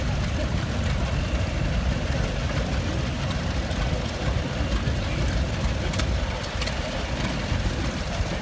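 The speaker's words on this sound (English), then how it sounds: "A 1964 John Deere 110 owned by Greg Pollock, with a Brindley disc, and it's driven by Greg." A 1964 John Deere 110 tractor rumbles steadily in a two-cylinder show parade, a dense low engine drone under outdoor crowd noise, with a faint voice in the background.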